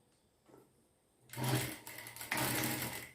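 A sewing machine stitches fabric, starting with a soft tap and then running in a loud, steady mechanical whirr with brief pauses, close by.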